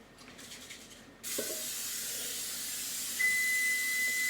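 A steady hiss of aerosol cooking spray into a Corningware baking dish starts abruptly and continues for several seconds, close by, after some faint handling noise.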